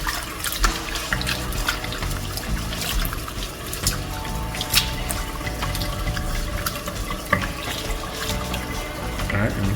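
Water runs steadily from a kitchen faucet into a sink while chicken feet and necks are rinsed for curry, a continuous close splashing stream with a few clinks and no talk.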